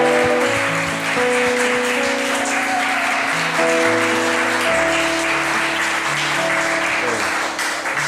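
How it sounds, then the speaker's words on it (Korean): A church congregation gives welcoming applause for first-time visitors at a Wednesday worship service, a steady, dense clapping lasting several seconds while sustained tones play underneath. "우리 환영의 박수 올려드리기 원합니다."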